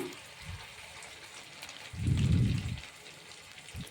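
Semolina and drumstick-leaf vadas fry in hot oil with a quiet, steady rain-like hiss, swelling into a louder, fuller burst of bubbling midway as more batter drops in.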